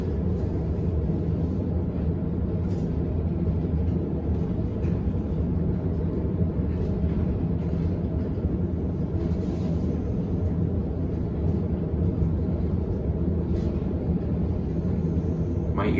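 A fast Otis high-rise elevator climbs at the Westin Peachtree Plaza, producing a steady, loud low rumble and rushing hum that holds throughout, with faint voices now and then.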